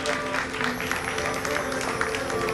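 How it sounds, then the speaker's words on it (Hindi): Crowd at a Jain Panchkalyanak festival in Rampur Maniharan claps steadily for a baby girl's birth, a dense, even patter of applause mixed with background music and voices. "ताली बजा दो बिटिया के जन्म पर"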